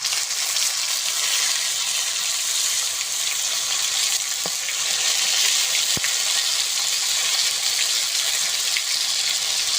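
Bay leaf and spices crackle in hot mustard oil for tempering a village-style rohu fish curry, a steady bright sizzle throughout with a couple of faint clicks, no talk.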